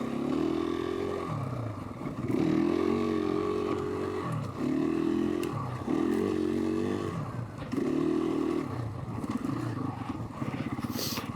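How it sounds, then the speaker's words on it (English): A 500 dual sport off-road motorcycle, street legal and used as an adventure bike, runs close by with a thumping single-cylinder engine note that rises and falls in repeated revs and then settles into idle. "Now I'm using this 500 as an adventure bike, my little dual sport bike."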